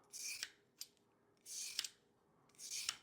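A handheld vegetable peeler scrapes down a raw carrot in three separate close, crisp strokes with short pauses between them and a small tap in one gap, quiet and alone.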